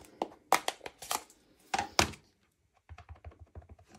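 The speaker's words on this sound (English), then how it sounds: "So we're gonna cut it right here at the bottom" Sweet Sorbet cardstock being cut at the bottom edge, a quick run of sharp, close snips and crunchy cuts, then a quieter patter of lighter taps and rustles.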